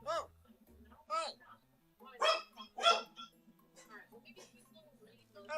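A small dog gives several sharp, close barks and yips in a quiet indoor room, spaced irregularly across a few seconds, with a person speaking softly between them.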